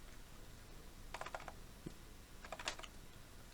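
Keys on a computer keyboard are pressed in two short, quiet clusters of quick clicks, with a faint single tap between them, over a low background hiss.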